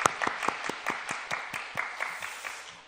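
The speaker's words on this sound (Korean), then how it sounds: "우리 여성 성도님들을 위해서도 격려의 박수 보내겠습니다." During a Friday night service at Yeouido Full Gospel Sinansan Church, the congregation claps in a rhythmic, evenly spaced pattern, each beat a crisp group clap that gradually softens and tapers off.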